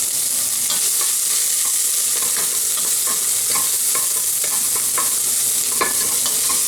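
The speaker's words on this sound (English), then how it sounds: "you're gonna put some olive oil or any oil you like, and you're gonna put the onion and garlic first." Onion and garlic sauté in olive oil in a pan for a bolognese sauce, a loud, steady sizzle with repeated stirring scrapes throughout, no voices.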